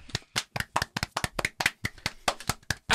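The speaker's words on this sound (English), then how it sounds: "Well done, little round of applause." A small scattered round of hand claps, a dozen or so sharp, uneven claps over a few seconds, close and fairly dry, with no talking.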